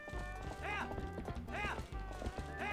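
Epona the horse galloping in The Legend of Zelda: Twilight Princess HD, steady clip-clop hoofbeats running close with a whinny-like call rising over game music and a voice talking.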